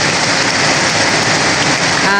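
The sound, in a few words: very heavy rain during a typhoon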